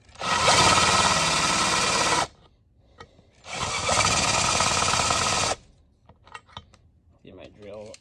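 Electric drill touching up holes in a cast iron drill press table: two loud, steady bursts of whining drilling a couple of seconds each, separated by quiet gaps with small clicks and clatter.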